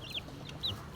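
Chicks make short high peeping calls, three brief chirps spaced apart over a low background murmur, near and moderately loud.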